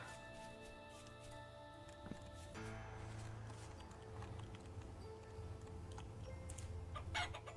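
Chickens clucking in the video game Vintage Story, soft repeated clucks under a quiet musical backdrop, with a few light clicks near the end.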